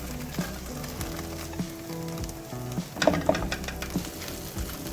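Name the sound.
garlic frying in a pan for chow mein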